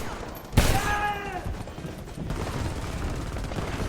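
Gunfire in the video game Homefront starts with a loud sharp shot, followed by a dense rattle of rapid fire and combat noise that continues steadily throughout.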